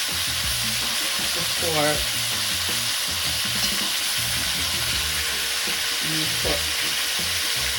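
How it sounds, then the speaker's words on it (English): Cow foot stew being stirred in a pot, a steady bubbling sizzle running throughout with occasional scraping of the spoon against the pot; a voice speaks briefly. "it easily gets stick to the pot. So what we are doing right now, trying to stir it"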